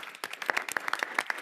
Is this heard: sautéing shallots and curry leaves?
no